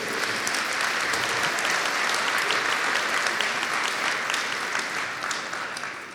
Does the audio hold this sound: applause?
yes